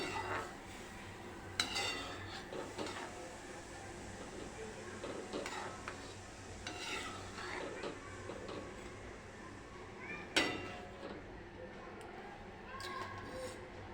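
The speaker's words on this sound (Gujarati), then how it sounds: "પાછું આપણે દૂધ નાખીશું હલાવી લઈશું" Sweet vermicelli (sevaiya) being stirred with milk in a metal pot, with light scraping and clinking of a spoon against the pan at irregular intervals.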